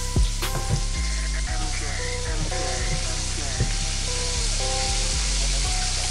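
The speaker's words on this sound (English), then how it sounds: "So as you guys can see, it's in there frying." Steady, dense crackling sizzle of chicken frying in hot oil, loud and close, with occasional louder pops and a few soft clinks.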